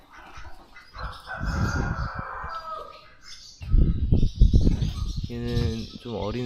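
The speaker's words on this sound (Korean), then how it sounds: "뭐야, 쟤 칠면조인가?" Young turkeys call outdoors on Prince Edward Island in Canada, a mix of gobbling and clucking bird sounds in bursts, with a person speaking over part of it.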